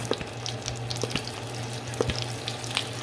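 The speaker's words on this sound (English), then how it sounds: "now we're just going to add a little bit of this squeezed garlic to our butter" Squeezed garlic sizzles in melted butter in a pan, a steady close crackling fry with a low hum beneath and a few soft stirring taps, no talking.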